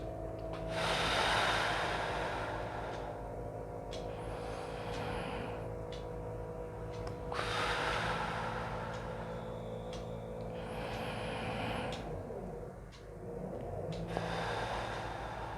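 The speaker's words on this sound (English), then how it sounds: "When you take a deep breath, take through the nose." Deep breaths drawn in through the nose during a lung exercise, two long inhalations with audible airflow, close and fairly loud, heard alone without talk.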